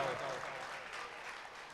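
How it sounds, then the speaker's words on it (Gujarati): Applause greets a performer at an Ahir community Janmashtami festival, a faint, dense patter of many hands clapping continuously in a large gathering. "એમને તાળીઓના ગડગડાટથી વધાવો"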